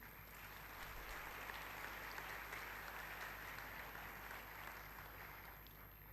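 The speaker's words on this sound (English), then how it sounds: "could we please have a round of applause for our family and loved ones?" A round of applause rises for family and loved ones at a school ceremony in Lagos, steady clapping from a crowd heard faintly and at a distance, holding evenly for several seconds.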